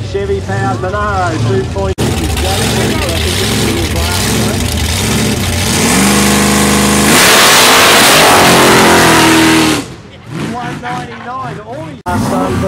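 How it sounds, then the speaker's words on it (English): A Chevy-powered Holden Monaro revs hard and accelerates on a 20-metre takeoff run at a drag event, the loud engine note climbing in repeated surges and then roaring steadily before it drops away, with an announcer talking over it. "The big Chevy powered Monaro"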